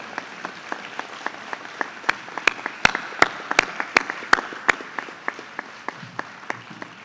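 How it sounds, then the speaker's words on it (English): Audience applause for eighth graders at a middle school closing ceremony: sharp, separate claps at a steady, fairly sparse rhythm, building to louder claps in the middle before thinning out, with no voices. "Let's give them a big round of applause as they prepare to take on the world"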